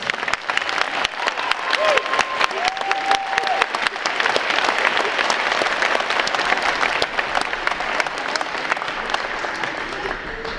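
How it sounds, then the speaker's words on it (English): Sustained audience applause fills a school winter band concert hall, dense even clapping lasting about ten seconds with a few brief tones sounding faintly underneath. "let's give them one more round of applause."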